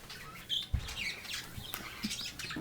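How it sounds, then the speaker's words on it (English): Zebra finches in a home cage give a handful of short, nasal chirps and tweets at irregular intervals, close by and fairly quiet, with no talking over them. "I have my zebra finches."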